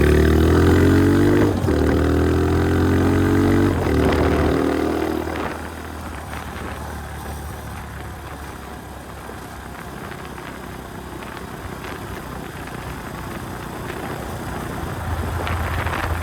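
An Icebear Champion 125cc CT70-clone motorcycle with a clutchless transmission, ridden on the throttle: a loud, close engine note climbs in pitch for about five seconds, then drops to a quieter, steady rumble with wind noise.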